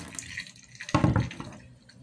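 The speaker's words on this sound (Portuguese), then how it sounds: "Deixa eu jogar um pouquinho de água aqui." A little water poured into a pot while cooking eggplant, a short splashing gush about a second long, moderately close, with faint background noise before and after.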